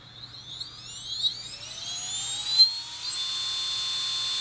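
A 3625-size 1800kv outrunner brushless motor driven by a Sequre ESCape32 70A ESC runs up to full throttle with no load, a smooth rising electric whine that climbs in pitch and then holds a steady, fairly quiet high tone.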